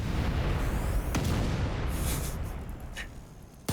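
Red barrels exploding in a video game, a loud, dense boom with a sharp crack near the one-second mark and a long rumbling roar that slowly fades, ending with a brief burst.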